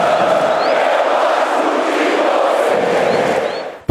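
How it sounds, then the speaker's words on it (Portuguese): Flamengo football fans fill the stadium stands with a dense, loud roar of crowd singing and chanting, continuous and far-spread, fading out at the very end. "Torcida ali feliz, cantando na arquibancada."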